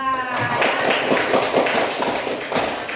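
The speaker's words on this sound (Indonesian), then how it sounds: "Beri tepuk tangan untuk kelompok 2." Classroom applause for a student group after their presentation: a steady patter of many hands clapping together, close and fairly loud, holding evenly for about three seconds with a brief voice at the start.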